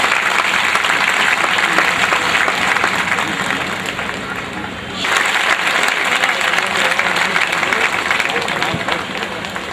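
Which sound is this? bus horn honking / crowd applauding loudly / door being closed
crowd applauding loudly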